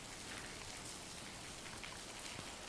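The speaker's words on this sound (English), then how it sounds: "You can see the rain hitting the roof of the Fortuner here, the Toyota Fortuner" Steady rain drums on the metal roof of a Toyota Fortuner during a Bangkok thunderstorm, a dense continuous patter heard up close with no voices.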